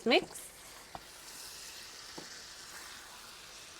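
Pork for jeyuk bulgogi sizzling in a pan, a soft steady hiss after a brief sharp clatter at the start, with a couple of faint taps from the stirring.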